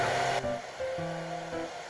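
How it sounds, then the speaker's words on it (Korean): A hair dryer blows on the front fringe to lift volume while styling a men's semi-leaf cut, giving a steady, close airflow hiss with slight shifts in pitch as the nozzle moves, and no talking. "여기 앞머리 부분에 볼륨을 드라이기 바람으로 살려줍니다"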